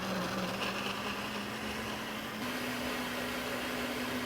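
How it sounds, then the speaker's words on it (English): A blender running steadily while blending cucumber for white gazpacho, a constant loud motor whir with a slight pitch shift partway through, no talking. "Make sure the blender is on correctly."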